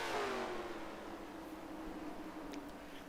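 Race cars lapping Charlotte Motor Speedway in the NASCAR Racing 2003 video game during a Coca-Cola 600 race, a steady droning engine roar with a faint rising whine, moderately distant and continuous with no talk.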